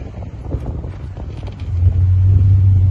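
A 1965 Chevrolet Impala convertible drives at close range, its low engine rumble rising and settling into a steady drone near the end.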